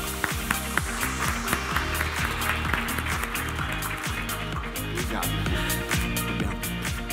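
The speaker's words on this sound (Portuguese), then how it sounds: "com uma salva de palmas" An audience at a tech conference talk applauds the speaker's introduction, a busy wash of clapping mixed with a rumbling, rhythmic music bed underneath.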